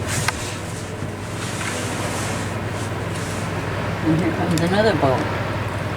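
A passing boat's motor drones steadily with wind and water noise on Netarts Bay, a voice speaking briefly near the end over the engine hum.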